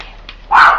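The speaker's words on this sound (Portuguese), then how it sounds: "não pode ver ninguém chegar na porta, ninguém gritar da pessoa, que ela começa a latir" A single sharp bark from a house dog rings out close by in a home kitchen near the end, after a quiet stretch with faint background noise.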